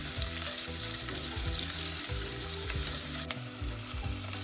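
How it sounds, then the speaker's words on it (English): Sliced onions and green chilies fry in a pan for a lamb and vegetable stew, with a steady, close sizzle and crackle and a few light stirring scrapes, and no voices. "onions are really frying well."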